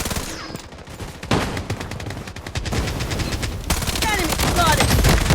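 Video game gunfire in Blood Strike, rapid automatic bursts and scattered shots crackling through a busy firefight, loud and close, with the game's voice callouts heard under the shooting.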